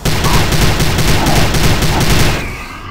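Loud, rapid automatic gunfire rattles in a sustained burst in the shooter Prey (2006), then cuts off and fades near the end.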